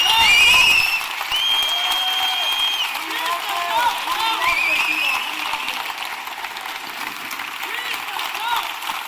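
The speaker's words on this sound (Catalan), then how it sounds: "aplaudint aquest moment" A large crowd applauding and cheering at the festival proclamation of the Sitges Festa Major, sustained dense clapping with shouts and whistles throughout, close and loud.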